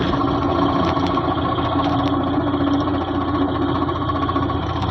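A Toyota Innova engine runs with gearbox noise from a clutch problem involving a broken clutch plate, a loud, steady, close mechanical drone with a constant whine that carries on unchanged throughout, with no voices.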